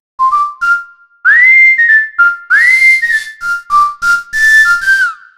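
RealiWhistle virtual whistle instrument blending normal and airy samples plays a short melodic phrase of clear, pure whistled notes with slides between pitches, close and alone.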